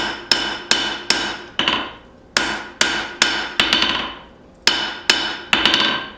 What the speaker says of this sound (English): I really want to be careful not to forge too thin right now.